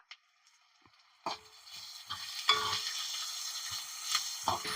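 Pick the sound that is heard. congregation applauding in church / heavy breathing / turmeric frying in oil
turmeric frying in oil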